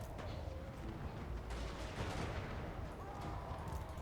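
Gyrocopter gunfire in a Total War: Warhammer 3 battle, with a steady, dense rattle of rapid shots and rumbling battle noise held at a constant, fairly loud level, no clear talking.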